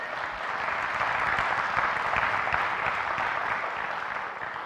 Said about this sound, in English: Yes, now you can clap.